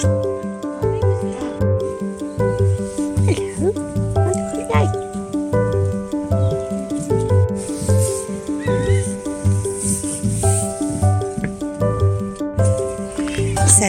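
A chorus of harsh, repeated rock hyrax calls, rising and falling like braying, continues steadily from fairly close with hardly a pause.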